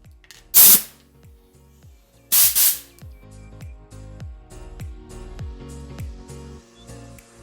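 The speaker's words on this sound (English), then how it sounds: "I can stir up some paint and give this probably 2 shots of paint" Spray paint hisses onto a John Deere 317 frame in two loud bursts, followed by quieter clinking and knocking.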